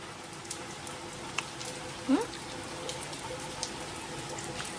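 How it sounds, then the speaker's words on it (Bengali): Rain falls steadily under a dark sky, a dense, even patter of drops on surfaces with a few louder nearby hits, continuous throughout. "আমার বৃষ্টি ভীষণ ভালো লাগে"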